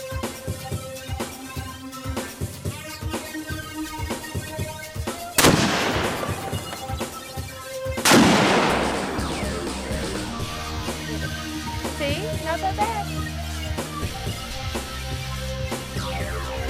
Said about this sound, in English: this is my new 243 Remington